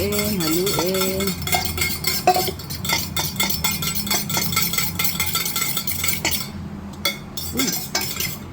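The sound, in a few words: stirring honey into tea with a spoon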